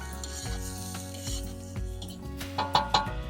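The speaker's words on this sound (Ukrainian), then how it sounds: "Дивіться, як гарно цибулька обсмажилась" Chopped onion sizzling and frying in a pan, a steady crackling hiss running throughout with a few brighter spits and pops near the end, close and moderately loud with no talk.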